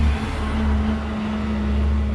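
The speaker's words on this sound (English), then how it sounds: "we got a trash truck coming through" Heavy garbage truck rumbling past outdoors with a steady low-frequency engine drone and a sustained hum, continuous and fairly close for the whole stretch, no talking.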